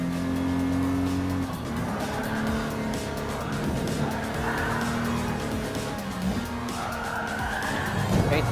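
A classic Jaguar E-Type's tires squeal and skid in Gran Turismo Sport, a loud, wavering screech over the engine's drone that rises and falls through several long slides.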